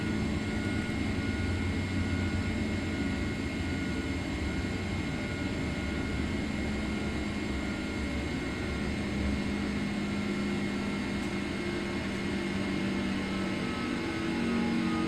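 A simulated airliner in Microsoft Flight Simulator roars steadily through its takeoff and climb with flaps retracting. The engine noise is a continuous broadband drone with a constant, smooth hum and no speech over it.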